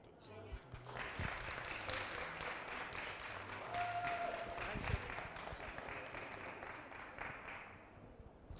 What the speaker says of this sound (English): Clap her again, clap her again.